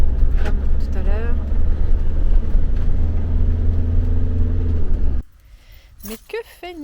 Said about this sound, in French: Les voitures descendent d'en haut, comme tout à l'heure.